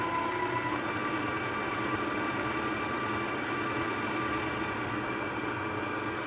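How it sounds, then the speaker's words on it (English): Stand mixer creaming butter and sugar for pecan ball cookies, a steady, loud motor whir with a low churning rumble that runs unbroken throughout, no voices over it. "We're going to cream this butter and sugar together"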